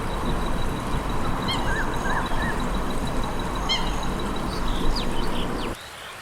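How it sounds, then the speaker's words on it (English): Eurasian coots call over a water setting, giving short, sharp, crackling and trumpeting notes in scattered bursts above a steady broadband background hum, the calls fairly faint and distant. "This is a noisy bird with a wide repertoire of crackling, explosive, or trumpeting calls,"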